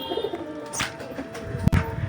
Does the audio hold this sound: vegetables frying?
no